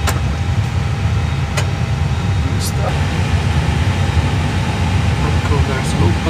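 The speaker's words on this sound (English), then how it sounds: "APU is on, which means that we have high pressure source," An aircraft APU runs steadily on an A320 with PW1100G engines, a dense continuous low roar and hiss filling the whole stretch at close range, with a few brief clicks and faint voice-like traces over it.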